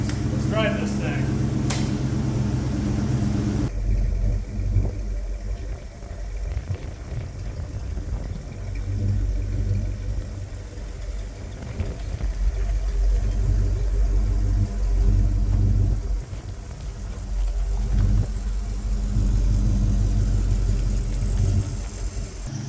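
A mint 1971 Ford Torino with an automatic transmission, heard while driving: a continuous low engine rumble and cabin drone that swells and eases slightly over the drive.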